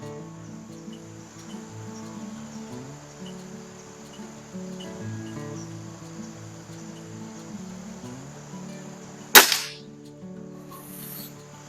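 A Weihrauch HW35E air rifle fires once at a 25-yard target, giving a single sharp, close crack late in the clip over a steady, faint background drone.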